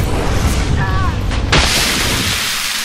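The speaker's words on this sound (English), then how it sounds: "That acid explosion" An acid explosion erupts in the Aliens: Colonial Marines multiplayer game as a sharp, loud burst about halfway through, with a broad rushing roar after it, amid chaotic in-game action.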